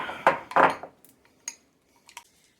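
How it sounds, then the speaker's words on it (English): A spoon clinks and scrapes against a small bowl while flour and sour cream are stirred together for a pan sauce: a few loud close strikes at first, then lighter, sparser taps. "I'm going to put the flour and the sour cream in a small bowl. I'm going to mix that together."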